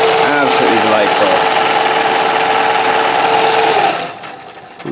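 A Singer 411G sewing machine running at speed gives a steady, loud, rapid mechanical whir and clatter that holds evenly for about four seconds, then slows and softens near the end.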